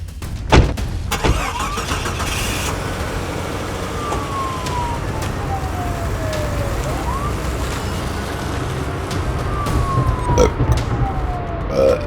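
A police jeep engine starts and runs loud and close, pulling away for a murder investigation, with steady motor roar throughout and faint siren-like sweeps rising and falling in the background.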